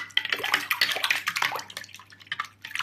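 A RAM stick is washed in water while PC components are cleaned, giving a steady, close splashing and trickling wash with brief bursts of running water throughout.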